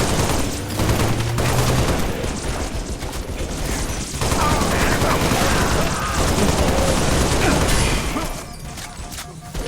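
Dense, sustained MA37 assault rifle fire in a Halo video game battle, with continuous loud bursts and crashes through most of the stretch, easing slightly near the end, with voice lines mixed in.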